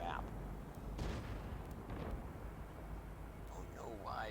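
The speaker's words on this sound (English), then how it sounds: "We've got a lot of shots being flung everywhere." Tank cannons fire in a tank video game: a few muffled, quiet booms land about a second apart over a low rumbling background.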